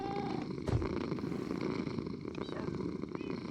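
Soft, continuous purring from a cat in the Minecraft video game, faint and even throughout, with a brief click partway in and no speech.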